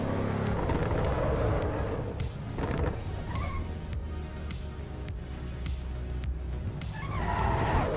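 An Audi driven in a racing simulator gives a steady, loud engine drone with gear changes and a brief tyre skid, continuous throughout with no talk.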